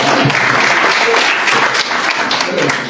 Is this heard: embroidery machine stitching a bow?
no